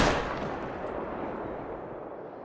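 Single loud rifle gunshot in theHunter: Call of the Wild, a sharp crack followed by a long rolling echo that fades over about two seconds in an open landscape.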